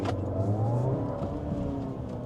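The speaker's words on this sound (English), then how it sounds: "When you come to a stop and the engine turns off like it has now, and then you accelerate, it takes a second." A 2024 Chery Tiggo 8 Pro Max engine restarts after auto stop-start and pulls away, a low rising hum and whir building steadily inside the cabin with no talking.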